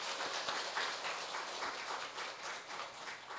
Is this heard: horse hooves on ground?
no